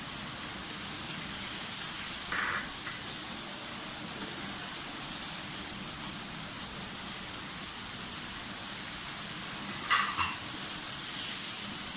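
Ground mutton qeema frying in a pan with ground spices being added, a steady broadband sizzle running throughout, with a couple of brief clinks or scrapes near the start and again near the end.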